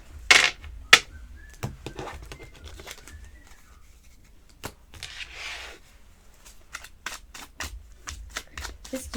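Oracle cards being shuffled in short, brisk riffling bursts at close range, separated by pauses and light taps, with someone speaking quietly between them.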